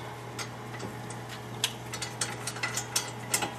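Brake caliper bracket bolts are run in on a Nissan Rogue front brake, heard as a quick series of close, light ratchet-like clicks that grow denser toward the end over a low steady hum.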